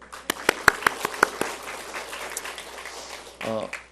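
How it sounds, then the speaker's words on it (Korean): Church congregation gives a short burst of applause: a handful of sharp, separate claps at first, quickly thinning into faint scattered clapping, before a voice begins speaking near the end. "하나님께 영광의 박수를 드릴까요?"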